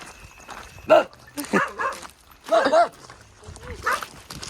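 Several dogs bark in short, loud bursts along a roadside on a pilgrimage walk to Dwarka, with barks repeating irregularly and people talking nearby.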